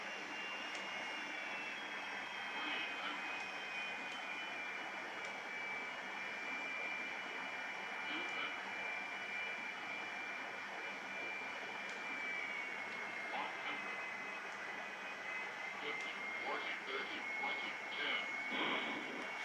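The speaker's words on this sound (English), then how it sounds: "we kind of bounced in the 747 a little bit" Boeing 747 in a flight simulator game touching down with a bounce, a steady, loud jet engine roar and airflow hiss droning throughout without break, close and continuous.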